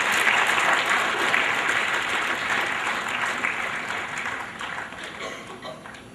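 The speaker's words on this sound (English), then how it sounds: "Big round of applause for him" An audience at a CEO meet gives a speaker called to the dais a full round of applause, loud and steady at first, then gradually thinning and softening over six seconds.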